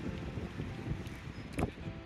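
Wind blows by the sea in Marseille as a steady, low roaring rush that buffets the microphone, loud and continuous for the whole stretch with no clear talk.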